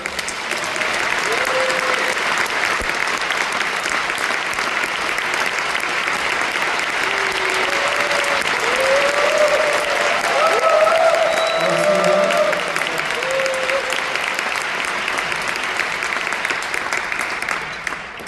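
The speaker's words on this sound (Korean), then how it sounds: "우리 나오실 때 큰 박수로 환영하겠습니다." An audience at a church lecture at Geumnan Church applauds to welcome a film director to the stage, a steady, dense wash of many hands clapping that holds evenly for about eighteen seconds.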